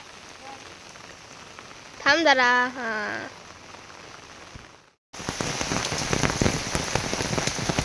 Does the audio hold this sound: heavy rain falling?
yes